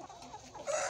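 Four-month-old crossbred fighting chickens in a flock give soft, brief clucking and murmuring for under a second, fairly faint at a middle distance.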